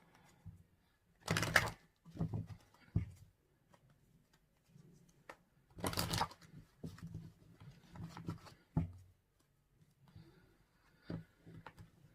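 Romance angel oracle cards being shuffled and handled, giving intermittent brushing, riffling bursts with quiet gaps, close and soft.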